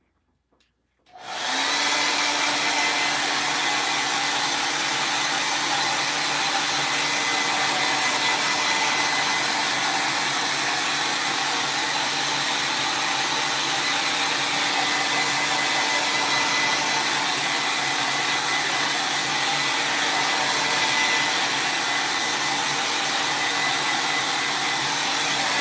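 A hair dryer blows steadily on a handmade holiday wreath, switching on abruptly and then holding a loud, constant whooshing roar with a faint motor whine for the full stretch, close by and uninterrupted, with no voices.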